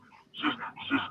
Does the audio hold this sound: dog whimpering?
yes